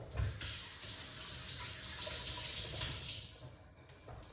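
A kitchen tap runs steadily during cooking, a continuous close hiss of flowing water with slight shifts in flow, heard alone with no talk.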